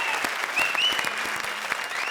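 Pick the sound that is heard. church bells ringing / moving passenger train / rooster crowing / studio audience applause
studio audience applause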